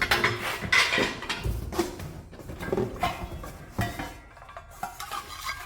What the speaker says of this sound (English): Couple really old frying pans.